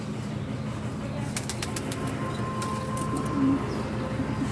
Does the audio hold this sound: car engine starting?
no